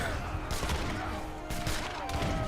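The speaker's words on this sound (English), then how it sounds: "Nice artillery rake." Artillery cannons fire in a multiplayer Age of Empires 3 battle, a dense, continuous rumble of overlapping booms with several sharp volleys standing out against the constant din of combat.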